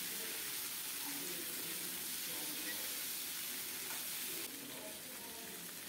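Pumpkin and Malabar spinach stems, with five-spice and two split green chillies, fry in hot mustard oil, a dense, loud, continuous sizzle that eases slightly toward the end, heard close up without talk.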